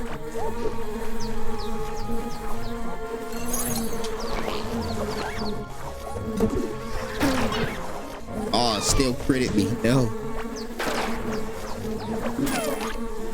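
Angry bees buzzing in the retro action RPG Secrets of Grindea, a constant droning hum with whining, wavering pitches and combat hits throughout, under a man's sporadic spoken remarks.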